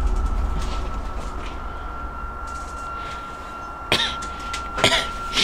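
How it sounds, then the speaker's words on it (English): Two short, sharp coughs about a second apart, heard over a steady low rumble with a faint whine, like the inside of a moving vehicle, in an abandoned mental asylum. "Stop coughing."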